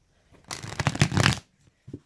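Large tarot cards shuffled in one brisk burst of papery riffling and flicking, lasting about a second, then a brief soft tap near the end.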